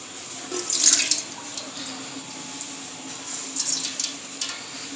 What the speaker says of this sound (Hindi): इसमें डालेंगे हम ऑयल 1 प्याली